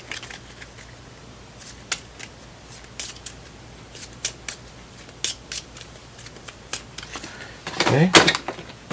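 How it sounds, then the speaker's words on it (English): Scattered crisp card clicks and snaps while playing the deck-building game Cthulhu, then a brief riffling shuffle flurry near the end, with soft background hum. "I'll have to shuffle."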